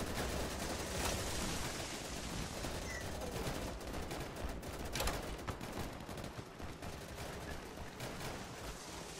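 Gunfire in the video game Easy Red 2 on a country lane map: dense, continuous rapid-fire bursts from several weapons, loud and unbroken throughout, with no voices.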